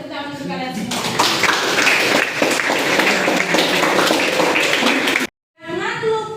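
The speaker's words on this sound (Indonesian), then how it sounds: "tepuk tangan untuk kalian semua" A classroom of students applauds at the end of a lesson, a dense, steady wash of clapping that fills several seconds before a brief pause and a short final burst, with children's voices mixed in.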